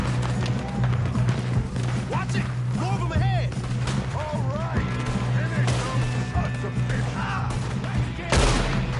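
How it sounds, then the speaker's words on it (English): Gunfire in the Red Dead Redemption 2 video game, with scattered shots over a steady background din during a gunfight, under character dialogue. "Good shooting, kid."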